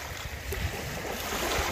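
Water rushes steadily through Mangla Dam, a continuous broadband roar with a deep low rumble that stays loud and unbroken throughout.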